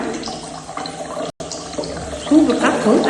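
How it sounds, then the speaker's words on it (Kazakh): Water spurts from a balloon into an empty container in a splashing, gurgling stream that grows louder toward the end, with a brief dropout midway. A voice is heard nearby. "су бұрқақ болып ағып жатыр. Себебі шардың ішіндегі ауа суды итеріп жатыр."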